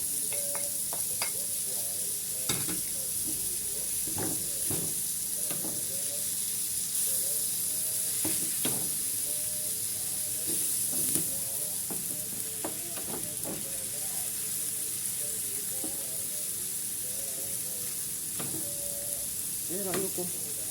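Chicken shawarma sizzles and fries in a pan, a steady hiss punctuated by repeated scraping and stirring clatter from a utensil at close range.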